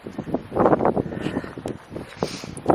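Wind blows across an open Swiss mountain viewpoint, gusting and buffeting the microphone in uneven bursts with rumbling noise and brief rustling throughout.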